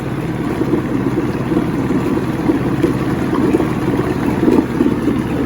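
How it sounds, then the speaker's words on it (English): A 1970 Evinrude 85hp outboard motor with hydroelectric shift runs steadily, producing a loud, continuous low rumble with no pauses and no voices. "Nice running motor."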